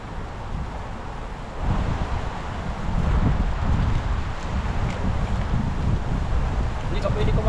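Cold wind gusts across an outdoor spot, rumbling against the microphone, jumping louder after a quieter opening, while people talk faintly underneath.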